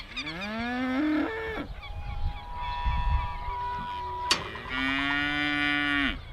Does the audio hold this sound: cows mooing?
yes